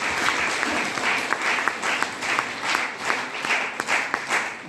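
Audience applause at a DXN business seminar, a steady dense patter of many hands clapping, fairly loud and sustained without any speech over it.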